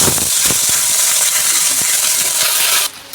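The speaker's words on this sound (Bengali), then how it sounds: "দিয়ে দেবো রসুন বাটা।" Garlic paste sizzles loudly and steadily in hot oil in a pan, a close, dense frying hiss that holds evenly for nearly three seconds before suddenly dropping away.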